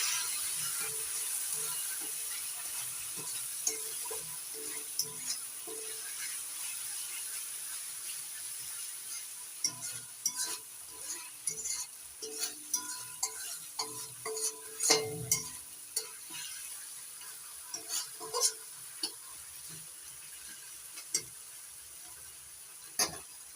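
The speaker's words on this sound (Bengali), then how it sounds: "এবার নাড়াচাড়া করে মিশিয়ে নিচ্ছি।" A fish curry masala with Kashmiri chili powder is stirred in a pan, making steady scraping and rustling stir strokes over a soft sizzle, clustered more densely in the middle stretch, with no voices.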